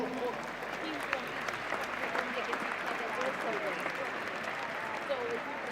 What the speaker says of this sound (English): Please can you give them a round of applause for that final?